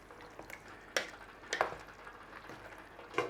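Tinned chopped tomatoes being stirred into a pot of simmering apple relish, with a few soft scraping and bubbling spurts at irregular intervals, quiet and close.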